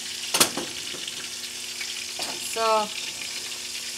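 Chicken pieces frying in a pan for Spanish chicken, giving a soft, steady sizzle with a couple of sharper crackles, and a brief voice speaking near the end.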